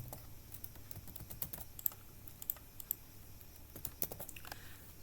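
Steady typing on a computer keyboard while coding a web page, a run of close, crisp key clicks with uneven rhythm and a few louder strokes.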